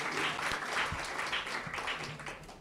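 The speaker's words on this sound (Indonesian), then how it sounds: "Tepuk tangan dulu buat Universitas Tarumanegara." Audience applause at a Universitas Tarumanegara 66th anniversary ceremony, a steady wash of many hands clapping throughout, moderately loud and sustained, with no talking over it.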